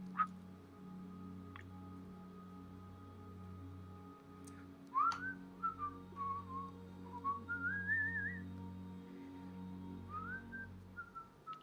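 A person whistles a few wavering, rising and falling notes in imitation of distant whistling in tunnels, quiet and breathy over a low steady hum.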